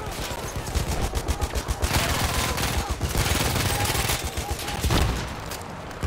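Rapid, dense machine-gun fire in Battlefield 1 on the Argonne Forest map, sustained bursts loud and close for several seconds with a mounted big gun hammering away.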